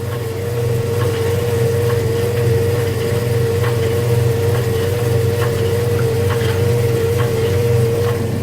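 A washing machine motor runs outdoors in a garden with a steady droning hum and a constant tonal whine, loud and unbroken throughout.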